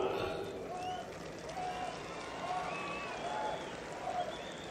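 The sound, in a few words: applause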